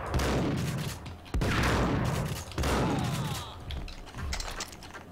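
Dual Beretta pistols firing in the PC shooter Max Payne, three loud sustained bursts of rapid gunfire with reverberant tails, separated by brief pauses.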